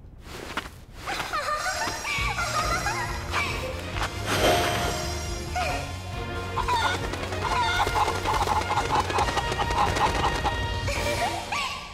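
Cuccos cluck and squawk repeatedly in Hyrule Warriors amid game combat sounds, with crashes and whooshes over a music bed. The bird calls come in frequent bursts and are fairly prominent.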